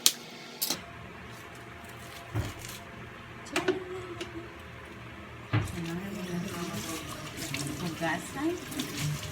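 Tap water runs into a sink while saba bananas are washed, a quiet steady trickle broken by a few knocks and clatters, with faint talk underneath.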